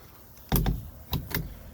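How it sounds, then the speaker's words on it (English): Half cab door on a Mahindra Roxor being pushed shut to latch, giving a pair of sharp close knocks followed a moment later by two more firm thumps, with no talk. "You can't just close the door. You actually have to push it to latch."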